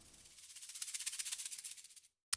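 A shaker sample played raw in Bitwig without stretching, a crisp, bright rhythmic rattle of evenly spaced shakes lasting about two seconds before stopping, followed by a brief click.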